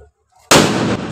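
A Diwali firecracker on a home rooftop goes off with one sudden, loud, close burst that hangs briefly before cutting off.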